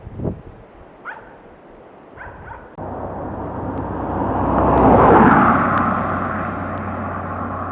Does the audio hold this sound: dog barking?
yes